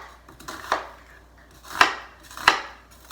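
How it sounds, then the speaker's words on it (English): A kitchen knife cuts through vegetables on a board, giving four or five crisp, close chops spaced roughly half a second to a second apart, with no voices. "Anyway, just going to cut this up."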